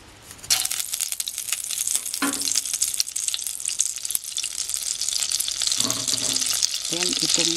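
Butter hits a pan of leftover oil and sizzles loudly and continuously, with brief scraping and stirring clatter while a voice talks briefly over the frying.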